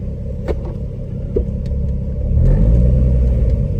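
A Nissan VQ35HR car engine idles and rumbles nearby under its own power, its low drone swelling louder near the end, with a few faint clicks and knocks on top.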